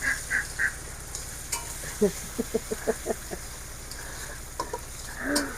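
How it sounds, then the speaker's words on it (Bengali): Ginger, cumin, garlic and onion fry together in a pan, giving a low continuous sizzle with a run of quick spatula taps and scrapes, plus a few faint honking sounds in the background. "আদা জিরা রসুন পেঁয়াজ একসাথে একটু ভাজা নিলাম"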